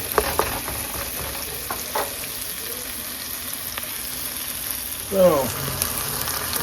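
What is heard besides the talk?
stuffed pepper filling frying in vegetable oil in pan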